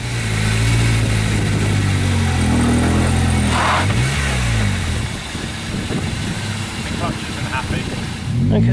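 A front-wheel-drive car revs hard with its wheels spinning as people push it from behind, the engine loud and close and rising and falling in pitch, with voices talking over it.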